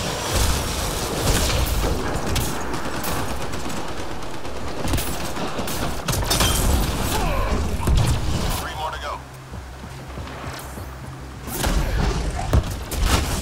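Rapid gunfire and heavy thumps from a first-person shooter battle in Apex Legends, dense and continuous with bursts of shots, with a player's voice talking over the action throughout.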